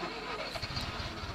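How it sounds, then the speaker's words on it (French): A tractor engine in Farming Simulator 19 turns over and catches, settling into a steady, close, throbbing diesel idle with a rhythmic low pulse. "Le son du moteur est plutôt pas mal"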